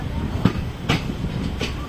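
A passenger train on the Moradabad to Dehradun line rolls into Amroha station in the rain, with a rumbling, evenly spaced clack of wheels on rail joints heard close from inside the carriage.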